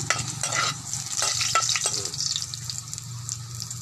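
Sea shells stir-fry in a pan with a steady sizzle, broken by several close scraping and rattling stirs that thin out toward the end.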